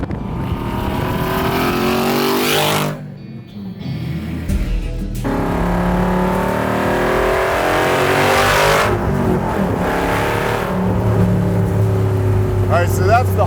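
A Superformance MkIII Cobra R with a 580 hp 5.2 Aluminator engine accelerates hard, its loud, close exhaust climbing through repeated rising sweeps near 6,200 rpm, with a brief lull between pulls.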